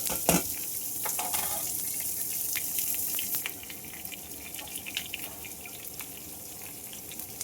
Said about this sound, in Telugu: పోపు మాడుకోకుండానే తరిగి పెట్టుకున్న ఉల్లిపాయ ముక్కలు, పచ్చిమిరపకాయలు, కరివేపాకు వేసేద్దాం.